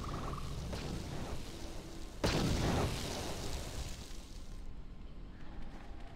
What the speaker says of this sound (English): That's the great explosion.